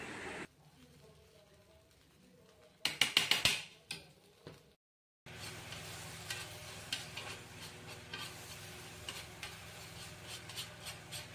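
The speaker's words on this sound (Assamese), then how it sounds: "এতিয়া ধুনীয়াকৈ লৰাই আছোঁ। গোটেইখিনি পেষ্টখিনি দি দিলোঁ তাৱাত।" Pointed gourd paste stirred in a frying pan, with a soft sizzle and repeated scraping strokes, a brief burst of louder clatter, a short silence, then steady stirring resuming.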